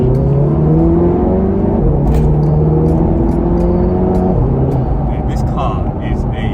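An Audi TT Mk3 on Eibach Pro lowering springs, switched into dynamic mode, gives a loud, steady engine drone that holds and climbs gently throughout while the car moves.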